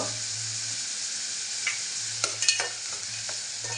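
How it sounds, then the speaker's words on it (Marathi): Malvani masala and asafoetida hit a hot pan for a spicy drumstick dal. The steady close sizzle carries a few soft stirring scrapes and no voices. "मालवणी मसाला टाकून घेते मी आता हिंग"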